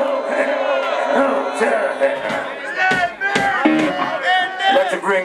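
A concert crowd at a tribute gig roars and chants loudly, with many voices shouting together in rising bursts, close and dense.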